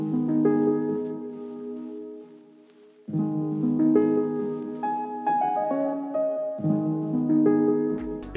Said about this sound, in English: I added the Kramer tape again for more distortion and wobble.